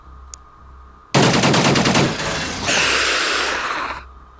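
Automatic gunfire in a military video game carrier mission bursts in loudly after a quiet start, a dense rattling volley lasting about three seconds before cutting off, with no talking.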